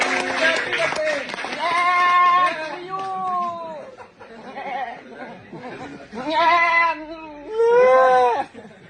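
A goat bleats repeatedly amid a lively birthday gathering, its wavering cries rising above clapping and excited voices of young men, loud and close, with several distinct bleats toward the end.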